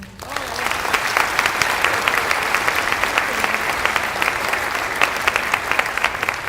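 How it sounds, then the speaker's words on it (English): An audience gives loud, sustained applause for the drum group Pumpkin Vine at a Native American student recognition event, dense clapping filling the room without pause. "give another round of applause to our drum group, Pumpkin Vine"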